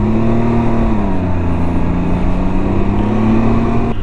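A 2020 Can-Am Ryker three-wheeled motorcycle rides through the city, its engine humming in a steady, close, loud drone whose pitch dips slightly and rises again, with road and wind noise underneath.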